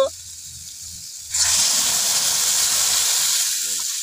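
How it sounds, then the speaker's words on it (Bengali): Water poured into a hot pan of fried spice paste of ginger, cumin and pepper bursts into a loud, steady hiss and sizzle that holds for several seconds after a quieter start. "কষা হয়ে গেছে, এবার খানিকটা জল দিয়ে দেব"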